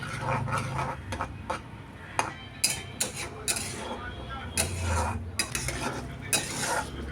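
Spices scraped and stirred in a cooking pan with a spatula, a steady run of close scraping strokes and clinks over a soft sizzle, with a few sharper knocks against the pan.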